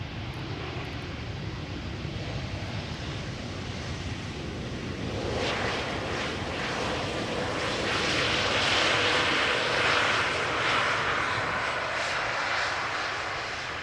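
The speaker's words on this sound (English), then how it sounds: "an Embraer 190 arriving from London City" An Embraer 190 jet airliner arriving at Amsterdam Schiphol Airport makes a broad, steady roar that swells gradually as it nears and stays loud for the rest of the stretch.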